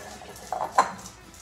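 A spoon stirs green chocolate into popcorn in a bowl, giving a couple of brief, close scraping clinks against the dish.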